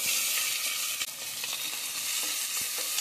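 Sliced onions and curry leaves sauté in oil in a pot of dal, a loud continuous sizzle broken by scraping stirs of a spoon, with no talking.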